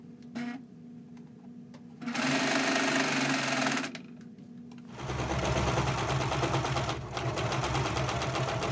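Sewing machine stitching through a fabric drawstring backpack, running in two long steady bursts with a pause between, the second burst louder and more continuous, close up with no talking.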